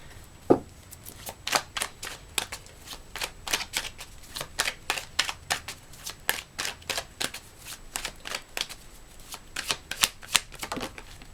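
Tarot cards shuffled by hand in a quiet room, a long run of quick riffling flutters and soft slaps repeating every half second or so, close and clear with no talking.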